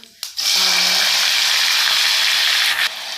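Chopped garlic and onion dropped into hot oil with cumin for a bottle gourd curry, a sudden loud sizzle that holds steady for a few seconds before fading, with a brief voice at the start.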